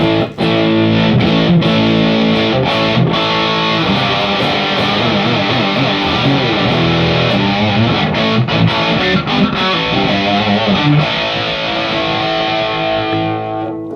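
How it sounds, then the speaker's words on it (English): A sustained, crunchy electric guitar through a plexi-style distortion pedal plays loud chords and riffs continuously, ringing out thickly before fading at the end. "I guess everybody knows what distortion does, but it basically gives us the sound of that crunch"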